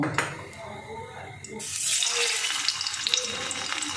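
Potatoes fry in oil in a pan, a broadening sizzle that swells after a brief quieter start and keeps crackling close by, with some watery clatter early on.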